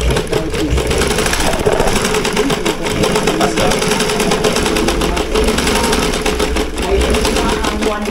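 An ordinary Singer sewing machine, serviced during a home repair call, runs steadily, its needle mechanism chattering in a fast, even mechanical rhythm, close and loud, with voices talking faintly underneath.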